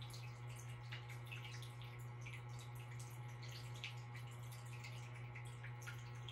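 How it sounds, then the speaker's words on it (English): A small indoor water fountain in an office trickles and drips quietly and steadily, a faint continuous splash over a low electrical hum. "Perhaps you can hear the sound of the water from my water fountain here in my office."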